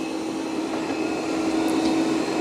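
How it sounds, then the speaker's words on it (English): A Roomba robot vacuum runs steadily indoors, its motor giving a constant close whirring hum with a faint tonal whine as it cleans the room's perimeter. "It's going to go around and do the perimeter of your room first, and then it will vacuum up in straight lines."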